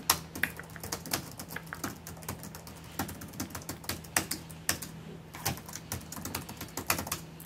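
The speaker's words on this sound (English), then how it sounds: "typing up this order real fast," Rapid typing on a computer keyboard, irregular bursts of clicking keystrokes close by, with a faint steady hum underneath and no talking.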